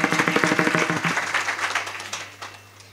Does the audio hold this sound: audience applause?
yes